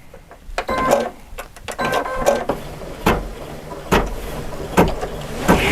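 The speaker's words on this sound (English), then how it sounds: "So I just finished stitching out that butterfly." Embroidery machine stitching out a butterfly design, with uneven mechanical whirring, clicks and periodic louder thumps as the needle and hoop move, close by with no talk.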